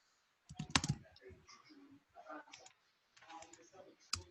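Typing on a computer keyboard during a rural community food system workshop: irregular bursts of close, crisp key clicks separated by short pauses, with a few sharper taps.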